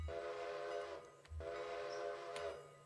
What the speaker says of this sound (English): blow the whistle twice,